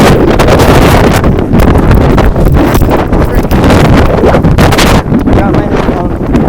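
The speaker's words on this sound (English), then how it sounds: "Literally, it is so windy." Strong gusts of wind buffet the microphone outdoors on a windy day, a loud, continuous rumbling roar that barely lets up, with brief dips around the middle and near the end.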